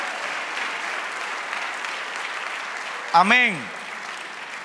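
Church congregation applauding during a sermon, a steady, diffuse bed of clapping throughout, briefly overlaid by a single spoken exclamation near the end.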